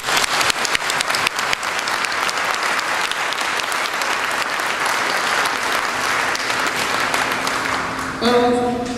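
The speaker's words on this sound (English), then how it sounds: "Let's give our candidates a round of applause." An audience at a school board candidate forum in a Richmond community high school claps loudly and steadily for several seconds. The clapping fades slightly near the end as a brief tone or voice-like sound comes in.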